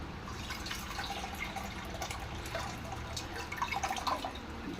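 Tamarind juice pours and drips in a thin, uneven trickle, with scattered splashes and small clinks close by, no voices.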